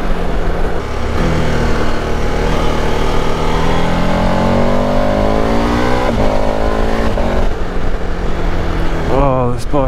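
A 2021 KTM 1290 Super Adventure motorcycle engine accelerating on a Welsh road, loud and close, with the engine note rising through the gears and a rider's voice over the engine.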